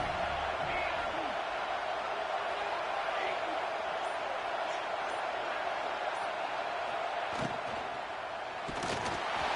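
A stadium crowd in the College Football 26 video game gives a continuous roar on a third down, with a voice talking over the distant noise.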